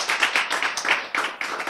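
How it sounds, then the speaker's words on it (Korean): An audience claps in a lecture hall, giving a short round of steady, even claps at close range for under two seconds, with no talking over it. "우리 조상님들 위해 박수."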